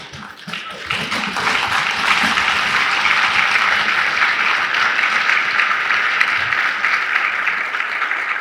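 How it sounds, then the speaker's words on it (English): A large audience giving a standing ovation for two professors at a university event, sustained loud clapping that swells after a brief start and continues evenly throughout. "a resounding applause"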